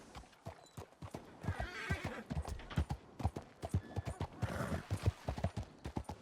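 Horse hooves clip-clop steadily in a Red Dead roleplay game, a fairly close, quiet rhythmic series of hoofbeats with a brief whinny.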